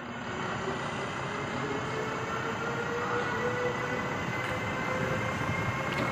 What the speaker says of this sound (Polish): Odjeżdża pociąg ekspres Tatran